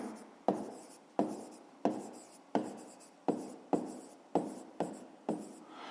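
Chalk or pen writing out a math solution, a steady series of about ten quick scratchy strokes with short pauses between, close and quiet, with no talking.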